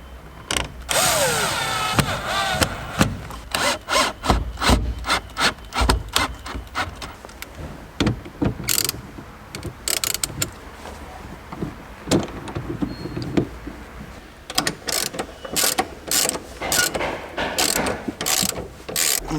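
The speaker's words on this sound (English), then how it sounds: "Need a screwdriver." A screwdriver ratchets while a Jaguar XKR's interior trim goes back together: sharp, rapid mechanical clicks come in bursts, dense early, sparse in the middle, then quick again, close and alone with no talk.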